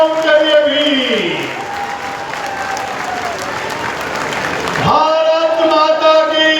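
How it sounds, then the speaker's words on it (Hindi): A village crowd at a public event in Nandgarh bursts into strong applause in the middle, while an amplified voice is heard before and after the clapping. "जोरदार तालियां उनके लिए भी"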